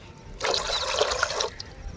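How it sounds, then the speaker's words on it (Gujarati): Two glasses of water pour steadily into a cooking pot of Kathiyawadi chavanu curry for about a second, a close splashing trickle that stops abruptly, leaving quiet room noise. "બે ગ્લાસ પાણી નાખ્યું છે"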